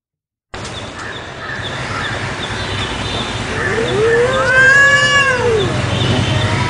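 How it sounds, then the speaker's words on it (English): Cats meow and caterwaul in a cat fight, rising and falling yowls swelling toward the end over a steady background hiss, with no talking. "It's a cat fight."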